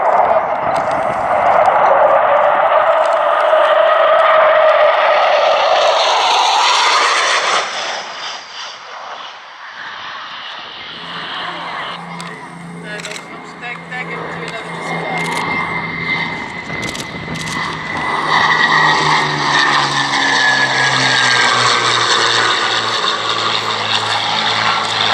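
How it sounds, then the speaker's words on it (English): A vintage aircraft at the Shuttleworth Fly Navy air show makes its final low pass, a loud propeller engine drone swelling then fading as it passes, with a voice talking over the crowd noise. "And here comes up his last pass, Steve Hickson for 2016."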